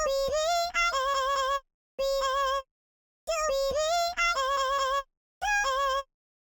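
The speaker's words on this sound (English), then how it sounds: "the vocal chops that we'll be playing on top of the chords" Melody of pitched-up vocal chops sliced from an a cappella, playing in four short rhythmic bursts with gaps of silence between them, bright and clear with no talking.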